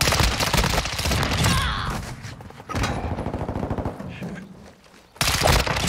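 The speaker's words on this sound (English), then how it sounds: "They just have no idea where the gunshots are coming from." Rapid bursts of suppressed gunfire from a pistol converted to SMG in a first-person shooter, dense and continuous for several seconds, pausing briefly before another loud burst near the end.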